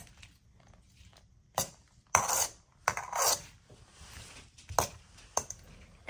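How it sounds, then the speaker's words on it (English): Pickled cucumbers tossed with sugar and vinegar in a bowl give a few sharp clinks and clatters of utensil against dish, spaced irregularly with quiet pauses between, close by and alone. "And then we give it a little mix."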